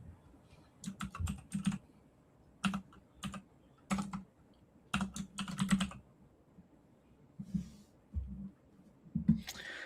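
Typing on a computer keyboard, bursts of quick close clacking keystrokes separated by short pauses, crisp and near with no talk.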